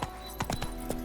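Horse hooves clip-clop at an easy pace in The Witcher 3, a few quick close hoofbeats over a steady background hum.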